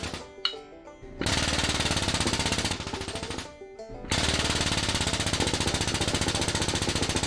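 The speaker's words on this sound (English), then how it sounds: "You hear this pump's really not struggling, but I assure you, you'd never be able to deal with this without this hydraulic helper." A hydraulic pump presses a cylinder sleeve into a Perkins 3.152 diesel engine block on a Massey Ferguson, running in loud, fast rhythmic pulsing bursts with two brief pauses.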